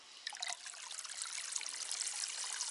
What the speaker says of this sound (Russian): и вот так вот вода бежит